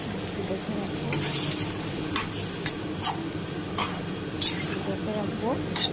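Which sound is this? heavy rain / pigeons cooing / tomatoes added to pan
tomatoes added to pan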